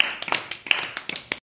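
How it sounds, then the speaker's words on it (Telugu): A few children clapping along in a classroom lesson, a short burst of uneven, scattered claps with sharp separate hits, close and quick, fading out to silence at the end. "very good, claps"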